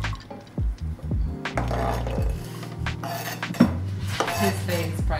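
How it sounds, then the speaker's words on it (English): Green onions tossed into a pan of hot coconut oil, giving a run of clattering pan and utensil knocks with scraping and clinks, close and fairly steady, no voices. "So we got coconut oil in there. Let's toss our green onions."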